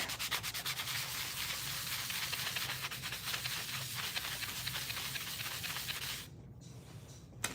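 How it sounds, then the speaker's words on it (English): Continuous scratchy rubbing of sandpaper across the back of a Christmas craft piece, close and steady with rhythmic strokes, easing off near the end. "I'm gonna go ahead and I'm gonna take my gamer and I'm gonna sand the back."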